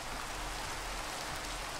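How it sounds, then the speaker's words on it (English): Rain falling at night in the video game Minecraft, a steady broadband hiss of drops on surfaces, continuous and moderately loud with no voices. "oh, it's raining as well"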